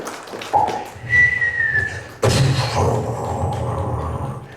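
A voice imitates a B-29 bomber flying in, a rising whistled drone followed by a rumbling roar, loud and close.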